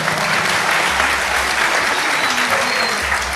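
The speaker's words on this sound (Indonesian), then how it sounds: "tepuk tangan dong" An audience at a religious talk breaks into applause, a dense, steady wash of many hands clapping throughout, loud and continuous with no break.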